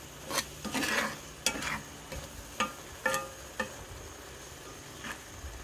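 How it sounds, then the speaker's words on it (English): Egg fried rice with pork being stirred in a pan, giving a string of close scraping and clinking strokes at an irregular pace over a faint background sizzle. "I'm going to stir it one more time and then I'm going to let it sit because I want to make sure that egg is done"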